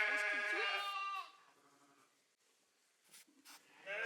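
Sheep bleat loudly and close at the start, and a quieter bleat returns near the end after a lull in which faint voices murmur in the background.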